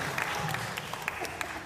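Audience applause at a tea party event, a steady wash of clapping from a group with a few sharper individual claps poking through.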